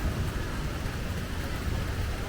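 Steady, dense hiss of rain in Mexico with a low rumble underneath, constant and unbroken throughout, no voices.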